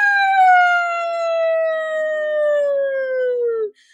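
A voice imitates a siren with one long, steady, descending wail that slowly falls in pitch over a few seconds, then stops abruptly.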